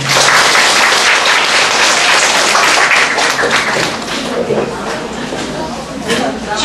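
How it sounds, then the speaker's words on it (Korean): A lecture audience breaks into sustained, dense applause after a talk, the many hands clapping loudly and close, then easing slightly toward the end, with a voice heard over it. "원장님께 다시 한번 큰 박수 부탁드립니다"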